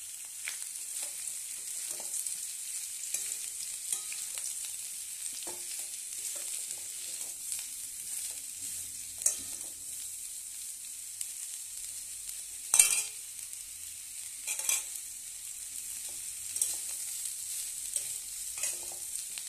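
Ginger frying in oil crackles with a soft, steady sizzle, broken by a few sharp pops and stirring knocks.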